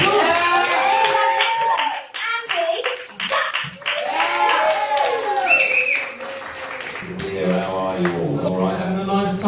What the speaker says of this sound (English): let's give him a lovely round of applause